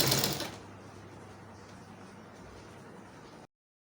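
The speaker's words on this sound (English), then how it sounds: "When I sew, I'm going to show you guys." A sewing machine stitches corset bone casing, a close, steady mechanical whir that begins louder and runs evenly for about three seconds before stopping abruptly.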